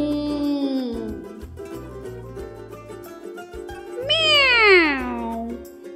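During a kids yoga session, voices imitate a cat with two drawn-out meows, one near the start and a louder, sliding one later, over soft background music.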